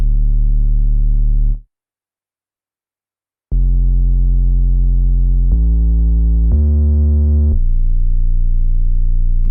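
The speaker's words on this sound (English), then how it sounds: "We started with this 808 that follows the root note." An 808 bass in a dark RnB beat plays sustained deep notes following the root of the chord, stopping for a brief gap and then stepping through several pitches, loud and alone.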